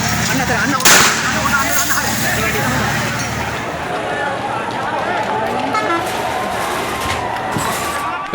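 A chaotic crowd of protesters roars and shouts amid a loud bang near the start as police fire tear gas, with dense noise throughout suggesting a tense street confrontation.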